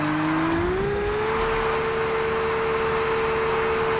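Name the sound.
car drifting in video game Car Parking Multiplayer 2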